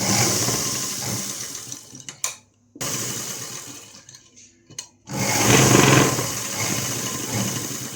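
A sewing machine runs in bursts while stitching a baby frock's lining to the main cloth, with a steady whirring mechanical hum that stops briefly twice before starting again loudly.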